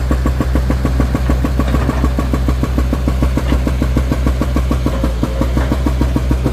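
A Kobelco SK140LC excavator's diesel engine runs steadily nearby, a loud rhythmic idling chug that stays even throughout, with no talking.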